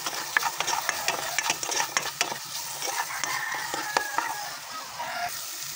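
Garlic, onion and ginger sautéing in a pan, a bright steady hiss with quick scraping stirs and light clicks of a utensil, close and without talk.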